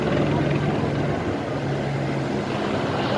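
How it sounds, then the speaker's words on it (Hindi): A helicopter flying near Badrinath temple in the Himalayas, its steady rotor thrum and engine drone filling the air continuously at fairly close range. "बीच बीच में हेलीकॉप्टर भी ले आते हैं।"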